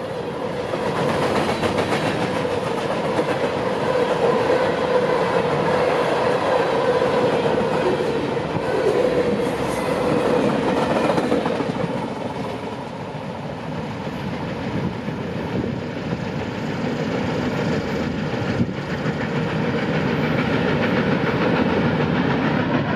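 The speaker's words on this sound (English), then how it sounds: "I'm glad that we caught this train" A freight train rolls steadily past a crossing near Folkston, Georgia, a loud continuous rumble of wagons with rhythmic clatter and squeals, close and sustained with no talking.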